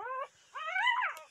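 Young puppies whining indoors, two drawn-out high whimpers with a short gap between them, close and fairly loud, with no other sounds.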